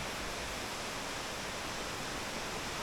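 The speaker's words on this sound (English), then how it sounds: "And quite a lot of water pouring down." A 28-metre waterfall pours down in a steady, uniform broadband rush, faint and distant, with no voices present.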